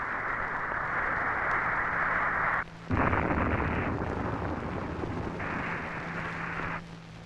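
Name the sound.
Titan II missile destroyed in failed test launch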